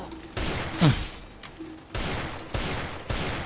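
Gunfire in the Free Fire video game, several loud bursts of rapid shots in quick succession, with a short whistling sound effect between, close and punchy.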